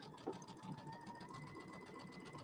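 A quilting sewing machine running a quarter-inch piecing stitch whirs steadily with a fast, even mechanical hum, sewing forward and then backstitching over the seam, close and alone.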